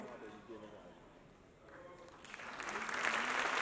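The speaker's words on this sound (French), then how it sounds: "Ça, c'est des applaudissements nourris qu'on récolte après ce travail extra." Applause swells from an audience at a film festival award ceremony at the grand theatre in Dakar, starting modest and building into dense, sustained clapping toward the end.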